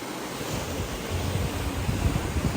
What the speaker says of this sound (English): This explains why there's so much wind.